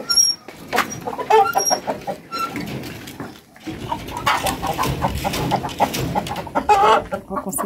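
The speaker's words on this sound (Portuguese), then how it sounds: "Fica só correndo atrás do outro galo, o outro galo." Farm chickens and a rooster cluck and squawk close by in a busy, overlapping chorus, with short pauses and rustling between bursts.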